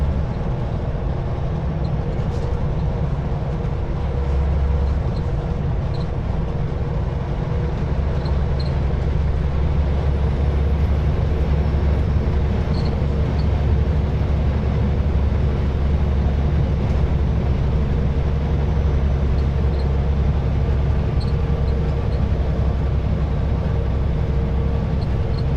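A long freight train with three locomotives at the head rolls past beside highway construction in a canyon, a loud continuous low rumble and roar with steady grinding, no talk.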